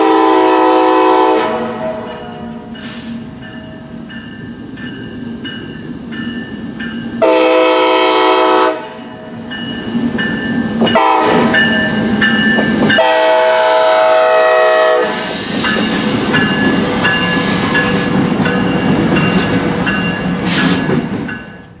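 A freight train led by new EMD locomotives rolls past near Brewster. Loud horn blasts sound several times over the steady rumble and clatter of the passing cars, all close by.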